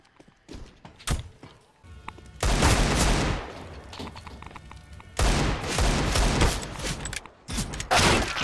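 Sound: gunfire in Counter-Strike video game

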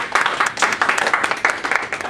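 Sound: audience applause welcoming Peter

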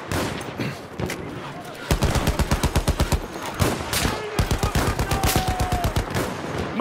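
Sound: machine gun fire in video game Battlefield 1

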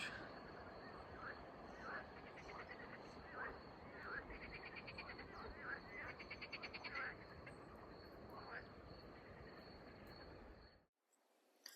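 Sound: frogs croaking

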